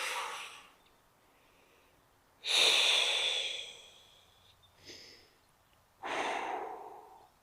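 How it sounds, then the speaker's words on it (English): Slow deep breaths during a guided shoulder stretch: a soft exhale, then a strong nasal inhale, a quieter sniff and another full breath, each rising and fading, close and alone in a quiet room. "Breathe in through your nose and out through your mouth."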